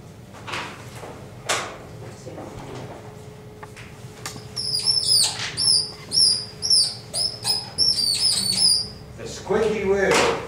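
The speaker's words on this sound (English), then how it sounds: "Hear the squeaky wheel there?" A squeaky wheel lets out a series of rhythmic high-pitched squeaks, around a dozen in steady succession, standing out clearly over background room noise and a voice speaking.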